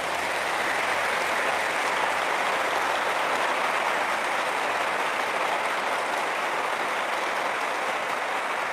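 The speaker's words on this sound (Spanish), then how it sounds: "Un aplauso para el Papa." A large audience at a Catholic gathering gives sustained applause, a dense, even wash of many clapping hands that holds steady throughout without voices.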